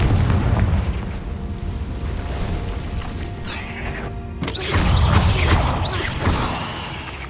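In the Hogwarts Legacy video game, Confringo explosive spells blast with heavy booms and crashing debris, a dense rumbling mix that surges sharply midway and stays loud, with no voices over it.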